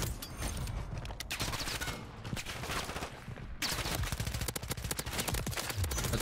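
SMG fire in a video game, long rapid bursts of close, loud shots in a fast steady rhythm, nearly continuous apart from a short pause partway through.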